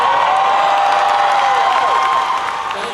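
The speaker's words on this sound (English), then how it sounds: "Thank you for the applause." An audience at a Dallas fan expo Q&A with John Cena claps and cheers in a large hall, a dense, loud wash of applause with a voice carrying through it, tapering off slightly toward the end.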